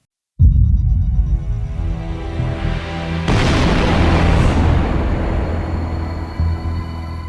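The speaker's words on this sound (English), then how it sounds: "This video footage will give you a glimpse of the scale of the explosion in Tel Aviv Central District caused by the Houthi drone" A large explosion in Tel Aviv's Central District, set off by a Houthi drone, opens with a sudden deep boom, then a louder blast rolls in about three seconds later and leaves a sustained rumbling roar.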